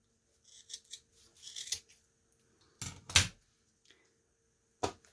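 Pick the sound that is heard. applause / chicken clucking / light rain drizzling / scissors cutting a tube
scissors cutting a tube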